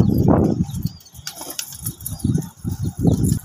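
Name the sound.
pigeons released, wings flapping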